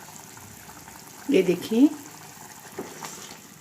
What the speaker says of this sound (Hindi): सालन में उबाल आ रहा है